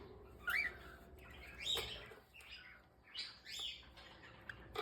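Cockatiels chirp and tweet inside their cage in several bright, close bursts, some rising into short squawk-like calls, with quiet room noise between them.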